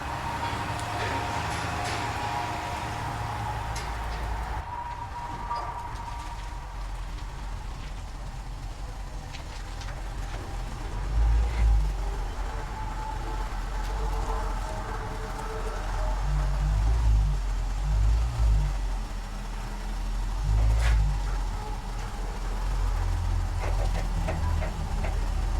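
Vehicle engine idling and rumbling at low speed while a trailer is backed into a shop, a steady mechanical drone with intermittent clanks and bumps, no talking.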